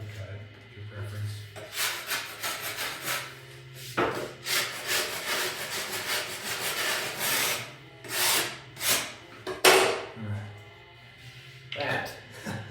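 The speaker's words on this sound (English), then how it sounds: "I found taking a speed square, kind of like a razor, just shaving any excess off and cut it" A speed square, used like a razor, shaves excess off a drywall edge during a closet remodel, making close, rhythmic scraping and rasping strokes in uneven bursts.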